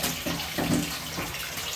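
Water running steadily from a rain shower in a bathroom, a broad hissing spray that stays loud and even, with a few louder splashing surges, no voices.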